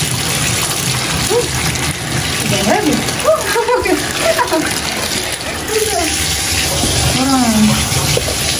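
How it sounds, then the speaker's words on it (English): Hot water from a bathroom tap fills a container for a home foot and hand soak, a steady loud gushing rush running throughout while someone talks briefly over it. "we're gonna go to the bathroom and we're gonna fill it up with hot water"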